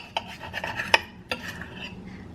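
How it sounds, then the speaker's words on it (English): A fork and knife picked up, a few bright metallic clinks and rattles of cutlery, close and brief, separated by quiet gaps. "let me just grab a fork and knife."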